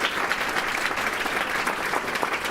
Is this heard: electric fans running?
no